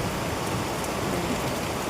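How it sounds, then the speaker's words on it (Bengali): Heavy rain in a strong wind makes a dense, even hiss of downpour that stays loud and continuous, with no gaps or voices. "দেখো তোমরা বৃষ্টি, কি হারে বৃষ্টি হচ্ছে, আর তেমনি দিচ্ছে প্রচণ্ড হাওয়া"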